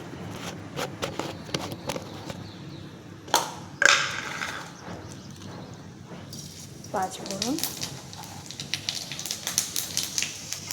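Sharp pops and crackles of five-spice seeds and dried red chillies hitting a little hot oil, building into a busy sizzle, with a voice talking over parts of it.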